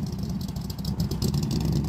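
A Mazda Miata fitted with a new 331 engine on the road, its steady mid-pitched engine drone heard close and continuous.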